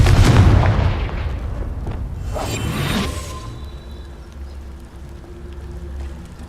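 A Confringo fire spell goes off in Hogwarts Legacy, a loud booming blast with a whooshing tail that fades into low rumbling ambience, close and with no voices.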